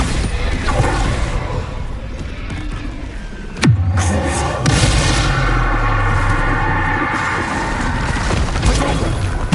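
A Bombarda spell in the Hogwarts Legacy video game goes off with a sudden loud blast and crash, followed by a rumbling, ringing tail over continuous game sound.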